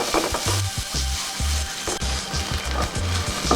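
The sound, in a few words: onion and garlic sizzling as they are sautéed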